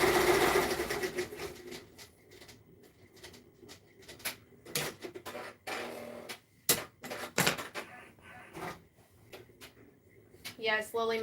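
An embroidery machine stitches a Sport-Tek ST5000 shirt in a small home shop, its rapid mechanical rattling running in uneven stretches close by while a person talks over it.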